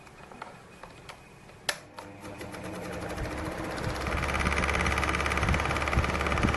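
A freshly powder-coated three-speed exhaust fan starts up with a brief clunk, then its whirring motor noise builds steadily and keeps running loud and broadband with no talking.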